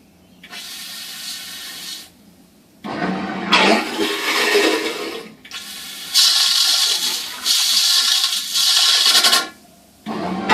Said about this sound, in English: Then to flush it, hit the right one.